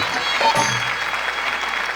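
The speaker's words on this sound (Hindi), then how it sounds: "जोरदार ताली पीछे तक, बहुत अच्छी" Audience applause at a live Haryanvi folk stage show: dense, steady clapping fills the whole stretch at an even loudness, with no speech over it.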